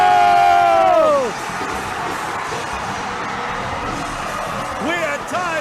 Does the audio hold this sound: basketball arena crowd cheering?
yes